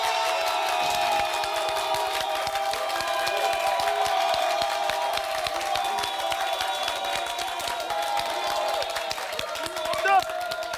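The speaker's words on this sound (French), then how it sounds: "vous devrez vous faire entendre vos applaudissements et vos cris, bien sûr, très très fort en 10 secondes pour Fatou" A live audience at a family music show claps and cheers hard for a contestant, a dense, sustained wash of applause and shouts that holds steady for about ten seconds.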